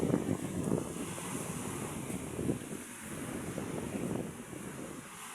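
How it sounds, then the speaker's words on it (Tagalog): Steady wind buffets the microphone while ocean surf rolls and washes ashore in the background, a continuous broadband rush with no voices. "Ah, sarap ng hangin."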